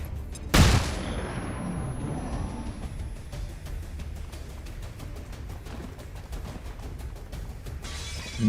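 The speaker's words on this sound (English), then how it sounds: "I probably should flashbang this guy." A flashbang grenade goes off in XCOM 2 with a sharp, loud burst near the start, followed by a long rumbling, crackling tail of game sound and scattered clicks.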